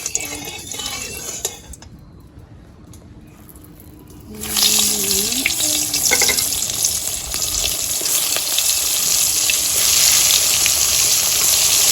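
Brinjal (eggplant) fried in oil in a village-style kitchen: after a quieter stretch with a few clinks, a loud, dense sizzle surges in and holds steadily close up until the end.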